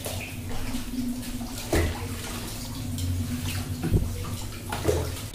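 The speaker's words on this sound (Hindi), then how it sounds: "पानी अब एकदम रफ्तार से आने लगा जैसे कि हमारी न्यू मशीन हो" Water gushing fast into a Samsung washing machine, a steady rushing flow with occasional louder splashes and knocks, close and without speech.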